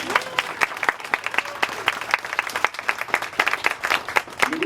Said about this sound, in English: can we clap again for Marge?